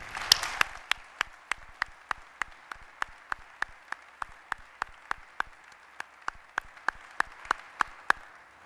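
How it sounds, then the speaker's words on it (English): Applause at a military change of command ceremony starts as a brief dense burst, then thins into sharp, evenly spaced claps that repeat steadily for several seconds, with no talk over them. "if you would, please join me in a round of applause for Lieutenant Colonel Deanna Burt"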